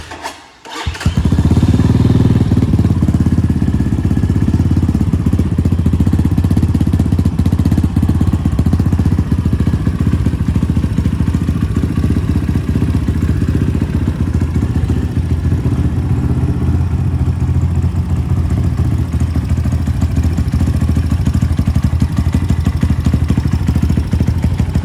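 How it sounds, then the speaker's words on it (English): An X-Pro Titan 250 motorcycle, already warmed up, fires on a warm start and settles into a loud, steady close-up idle that runs without a break, no talking over it. "brought her up to the house, got her all warmed up now, so here's a nice warm start"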